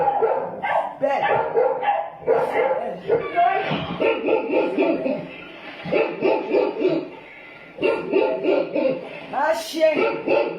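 A dog barks and yips repeatedly in short bursts while people talk over and around it, the barks loud and close, broken by brief pauses.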